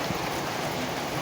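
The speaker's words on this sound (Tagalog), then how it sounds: "Rain. Thank you, rain." Steady rain falls on a hot summer day, a dense, even hiss of drops on surfaces that holds at the same level without a break.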